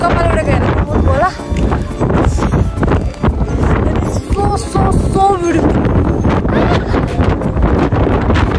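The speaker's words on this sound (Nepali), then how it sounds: "यहाँ त्यस्तो हावा चलिरहेको छ कि हामी मेरो कपाल उडेको हेर्नु होला" Strong wind in the open in Mustang, Nepal, rumbles and buffets the microphone in gusts, mixed with someone talking excitedly close by.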